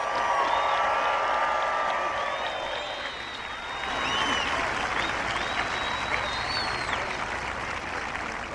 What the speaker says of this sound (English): could we all give the class of 24 a roaring round of applause?